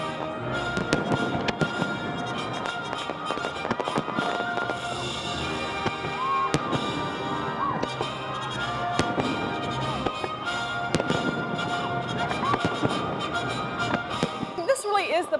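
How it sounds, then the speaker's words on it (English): Fireworks launched from a barge on the James River at a Fourth of July show, a rapid run of loud cracks, pops and booms bursting one after another across the whole stretch, with crowd noise beneath. "You can see the fireworks being shot from the barge level all the way up to the sky."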